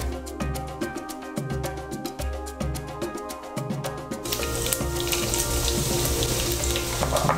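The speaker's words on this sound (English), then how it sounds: "now this thing's a little hot. We're gonna start by adding in our carrots" Carrots hit a hot pan for yakisoba, Japanese fried noodles. A steady, loud broadband sizzle builds and thickens halfway through, over a low rhythmic background hum and clatter, with no talking.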